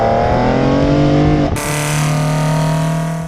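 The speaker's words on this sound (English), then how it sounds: "the main benefit, if I'm honest, is they sound like this" A Ford Fusion ST engine fitted with individual throttle bodies revs hard, a loud distorted rising note that cuts sharply midway, then holds a steady raspy drone before easing off.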